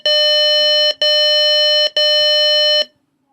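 An electronic buzzer in a 555-timer infrared burglar alarm circuit sounds three loud, long tones with brief gaps between them, then stops.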